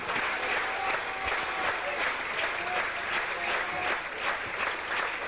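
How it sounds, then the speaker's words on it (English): A cricket crowd at a 1982 Sri Lanka versus England Test applauds a departing Sri Lankan batsman, sustained clapping from a large distant crowd filling the whole stretch, with a commentator's voice faintly over it. "You can hear the applause."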